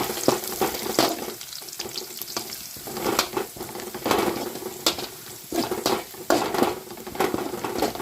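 Onion with ginger-garlic paste frying for a soya chunks dish, a steady close sizzle with repeated scraping stirs of a spoon in the pan, no voices.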